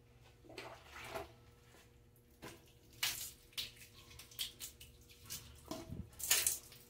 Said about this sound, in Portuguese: Agora eu vou jogar a água para vocês verem como que ficou.